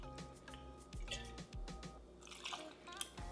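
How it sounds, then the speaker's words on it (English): A shot of gin is poured from a jigger for a rosemary French 75 cocktail, heard as quiet dripping and trickling liquid with small glassy ticks, faint and close. "we're gonna pour in 1 shot of gin"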